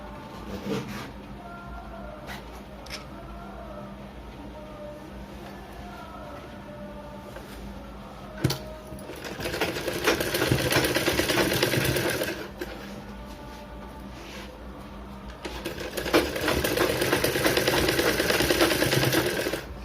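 A sewing machine runs in bursts while stitching the back-opening of a blouse, with quieter pauses and light handling noise between two long, steady runs of close, loud stitching.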